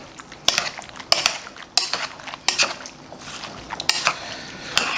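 Shrimp ceviche with vegetables is tossed in a bowl, giving a run of sharp clinks and scrapes from a utensil against the bowl, repeating in irregular strokes about once a second, close and clear with no talking.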